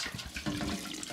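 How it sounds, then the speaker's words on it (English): Warm water runs into a container to rinse fresh cheese curds during homemade cheesemaking, a brief close splashing pour. "Now you put some warm water into here."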